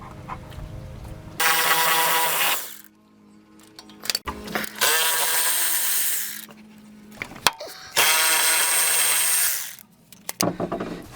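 A power ratchet removes bolts from the rear subframe of a Mitsubishi Eclipse GSX in a garage, firing three loud, whirring bursts of about two seconds each. Quiet gaps with small clanks of metal fall between them.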